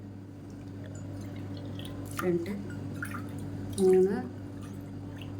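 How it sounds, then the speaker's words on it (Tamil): Water is poured into a measuring cup in a kitchen while making a horse gram breakfast, two short splashy pours rising in pitch as the cup fills, under a low steady background hum and some speech. "4 பங்கு தண்ணி ஊற்றிருக்கேன்."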